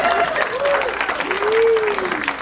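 An audience claps steadily throughout, a dense burst of applause beneath a voice that talks over it with rising and falling tones.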